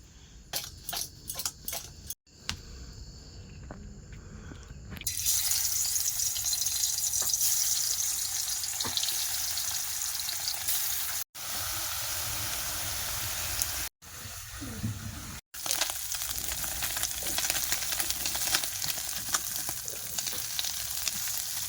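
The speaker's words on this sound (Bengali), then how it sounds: "মাছ কিন্তু এক করে হয়ে গেছে একদম লাল লাল করে ভেজে নিচ্ছি" Fish frying in a pan until red and crisp, giving a steady, close sizzle and crackle, with a few quieter moments and brief cuts at the start and in the middle.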